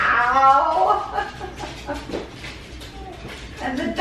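A dog makes high, wavering whimpers and yips at close range, mixed with people talking and laughing.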